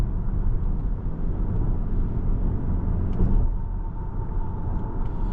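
A 2025 Lexus RX 450h+ hybrid SUV in mint condition cruises along, heard from inside as a steady low road rumble and tyre drone, with faint cabin noise and no voices.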